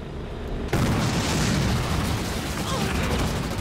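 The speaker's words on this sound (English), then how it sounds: "Artillery fire!" An artillery barrage in the real-time strategy game Halo Wars 2 opens with a sudden booming blast, followed by a dense, sustained roar of heavy explosions, loud and close, with faint game voices underneath.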